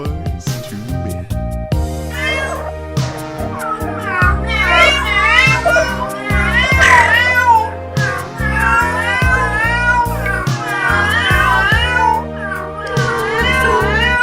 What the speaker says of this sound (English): Cats in Heat singing the sounds of romance.